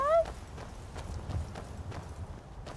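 Horse hooves clip-clopping at a steady walking rhythm in Skyrim, moderately close, opening with a short horse whinny and continuing as a regular series of muffled hoofbeats.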